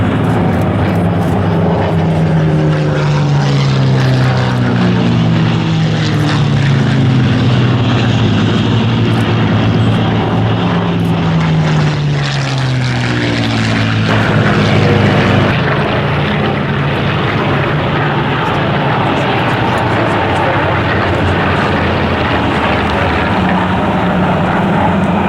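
Supermarine Spitfire aircraft, clipped-wing versions among them, fly over at the Flying Legends airshow, their loud propeller engine drone rising and falling with clear pitch sweeps as they pass, sustained throughout with no talk.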